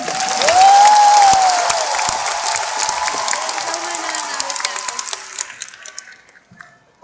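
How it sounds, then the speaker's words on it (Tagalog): Applause and cheering from an anniversary event audience, a loud burst of clapping and crowd noise that swells early and slowly fades, with a voice briefly heard over it. "Maraming salamat sa inyong palakpak."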